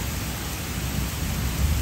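A dense, steady roar of heavy rain, loud and continuous with no pauses or voices.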